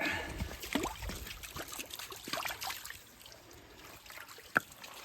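Water trickles and splashes over a very hard stone being washed outdoors on a country walk, a steady wet dribbling through the first few seconds that fades lower, with one sharp tap near the end.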